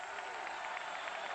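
A purple-clad home crowd roars on its feet inside the stadium at a 1991 Colorado vs Kansas State college football game, a dense, steady wash of cheering with no breaks.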